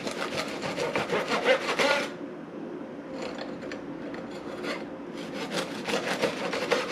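A knife saws through a loaf of homemade bread in quick, close back-and-forth rasping strokes, pausing briefly midway before the cutting resumes; no speech.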